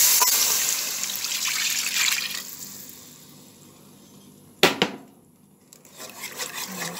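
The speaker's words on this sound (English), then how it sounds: "I'm gonna add 2 cups of whole milk." Whole milk poured into a pan for a macaroni and cheese sauce makes a close, splashing trickle that tapers off over a few seconds, followed by a sharp knock and some softer handling clatter.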